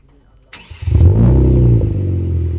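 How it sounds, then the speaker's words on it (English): A Kia Stinger GT engine, started by remote start, cranks and catches, then settles into a steady, close idle rumble after a brief electronic chime. "You can remote start this car."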